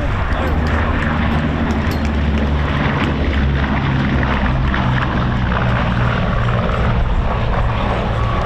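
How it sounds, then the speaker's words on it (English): A historic Bristol Blenheim RAF bomber in flight, its piston engines and propellers making a loud, continuous droning roar that stays strong throughout. "this historic Bristol Blenheim, this is the world's only flying example"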